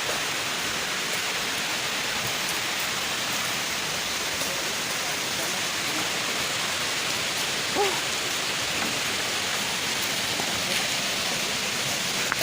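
The Moramo waterfall in South Konawe pours in a constant broad roar of rushing water, dense and unbroken like heavy rain, close and steady for the whole stretch.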